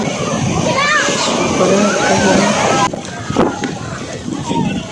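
Water sloshes and splashes beneath a floating bridge at Malpe Beach in Udupi, a steady wash of surf with children's and adults' voices chattering over it throughout.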